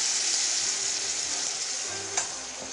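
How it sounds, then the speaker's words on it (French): Hot stock poured into risotto rice in a hot pan, a loud bright continuous sizzle close up with a brief clatter near the end, no voices. "Je verse mon bouillon bien chaud dans le riz."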